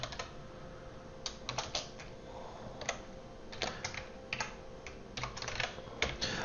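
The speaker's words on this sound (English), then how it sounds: "while I'm kind of typing this crud out" Code being typed on a computer keyboard: steady soft clicking of keys with irregular bursts and brief pauses, close and quiet, with no talk over it.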